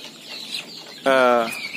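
A chicken lets out a single loud, drawn-out cluck close by, over a low hum of farmyard background noise.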